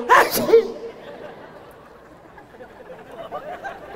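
A preacher imitates a child's sneeze with one sharp, loud vocal burst at the start, followed by faint murmuring and crowd chatter in the background.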